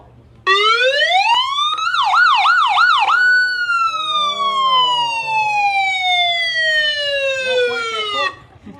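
A rescue vehicle's loud electronic siren rises and falls, then warbles rapidly before settling into a long sweeping wail, close and piercing.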